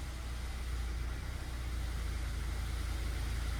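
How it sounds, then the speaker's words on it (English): A Honda Accord engine idles in reverse gear, a steady low hum and rumble heard from inside the car, constant and unbroken with no talking. "I'm in the car, I just fired it up"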